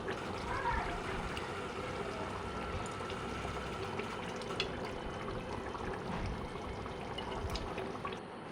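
Curry gravy with rice and potatoes boiling in a pot gives a steady, continuous bubbling and simmering hiss, close and even throughout, with no clear talk over it.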